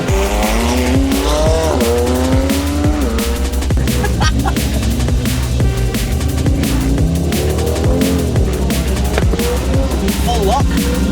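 A 2022 8Y Audi RS3 saloon drives hard up the Stelvio Pass, its engine revving and changing pitch as tires squeal repeatedly through the bends, loud and close throughout.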